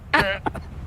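A single harsh cough or throat-clearing burst, close and loud, followed by a shorter second cough, with no speech around it.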